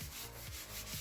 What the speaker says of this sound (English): give it a good coat, and what we'll do is just buff that in